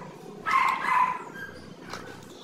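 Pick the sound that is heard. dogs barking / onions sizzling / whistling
dogs barking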